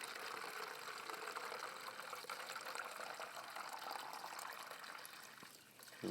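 Spring water pours steadily into a container at about a gallon a minute, a constant close splashing wash that holds even from start to finish, with no talking.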